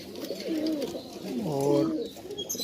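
Nawabi pigeons in a loft give soft, rolling coos close by, two distinct cooing phrases with a low background murmur between them.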